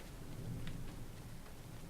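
Thunder crash with steady rain in the video game Assassin's Creed III, a quiet low rumble rolling under a constant hiss of rainfall, no talking.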